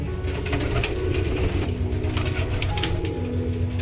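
Pigeons coo in low, throaty rolling calls, close by and fairly loud, repeating over a steady background with no speech.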